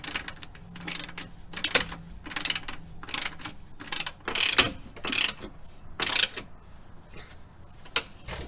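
A ratchet clicks in repeated bursts while tightening suspension hardware on a 1999-2004 Jeep Grand Cherokee WJ, close and crisp, with short rapid strokes separated by brief pauses.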